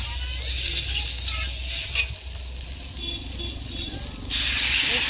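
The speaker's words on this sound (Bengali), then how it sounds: "এবারে আমি ডালের মধ্যে সবজিগুলোকে একটু নেড়ে চেড়ে ভেজে নেব" Vegetables frying with lentils in a pan for a dal and vegetable dish, giving a steady broad hiss with brief shifts where the pieces are stirred and a louder sizzle surge at the end, no voices.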